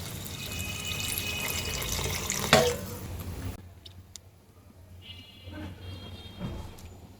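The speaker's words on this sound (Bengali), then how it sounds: "এখন আম্মু দিয়ে দিচ্ছে ঝোলের পানি" A steady rush of water poured into a shrimp curry fills the first few seconds, then cuts off, leaving quiet kitchen clatter and faint clicks.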